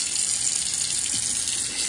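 Kitchen tap running steadily into a sink while cleaning a dishwasher, a constant close splashing wash with no talk.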